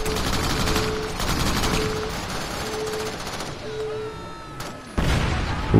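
Sustained automatic gunfire in the video game Crackdown, loud and continuous, ending with a sudden heavy grenade blast near the end, with no talk.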